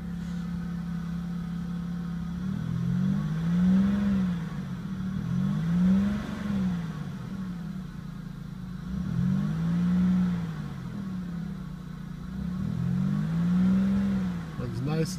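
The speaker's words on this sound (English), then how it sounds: "This is J&J Auto Wrecking's engine test for E1 PN034." A 2001 Pontiac Bonneville with a 3.8 engine and 127,479 miles runs steadily and revs up in four smooth swells, each climbing and settling back toward idle, heard close up with a faint voice underneath.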